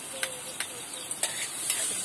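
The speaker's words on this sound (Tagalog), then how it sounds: "Igigisa ko na yung sibuyas," Onion and garlic sautéing in hot oil in a pan, a steady close sizzle with several sharp stirring scrapes at irregular intervals.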